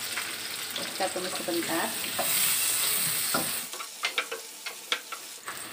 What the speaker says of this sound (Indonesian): Kita masukkan bawang putih sama bawang bombaynya